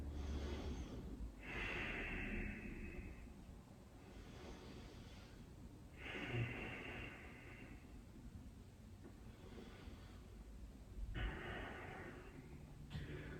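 Slow, deep breaths during a yoga session for athletes, each long inhale and exhale a soft, airy rush close by, repeating at an even pace with quiet pauses between.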